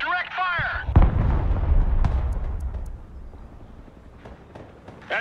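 Heavy artillery fire in the video game Broken Arrow sounds as a deep, rumbling boom that rolls on for a couple of seconds. Radio-style voices talk over it before it fades.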